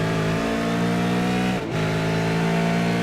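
A V8 Supercars race car engine drones at high revs from on board, loud and steady, with a quick dip as the driver lifts before it climbs again.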